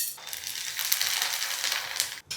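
Bhungla fryums frying in hot oil give a brief, close, crackly hiss that holds steady for about two seconds before dropping off abruptly.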